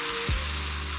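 Ingredients hitting hot coconut oil during a chicken rendang cook, a sudden burst of sizzling that settles into a steady frying hiss beneath a low hum.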